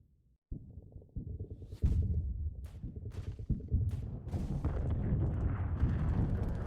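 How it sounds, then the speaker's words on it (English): Mortar attack sound effect during a tabletop Only War session, a series of booming, thudding detonations that build into a dense, rumbling barrage of explosions, growing louder and more continuous as it goes. "So here is the mortar attack."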